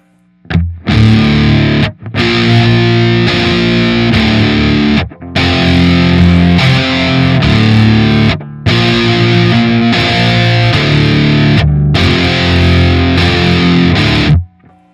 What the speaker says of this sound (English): I will now kick on the dirty channel.